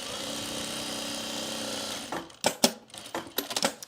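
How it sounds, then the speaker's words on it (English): A sewing machine stitches down the bottom of a pocket on a travel bag: a steady, close mechanical whir for about two seconds, then it stops and gives way to scattered clicks and handling knocks. "we're just gonna stitch down on the bottom"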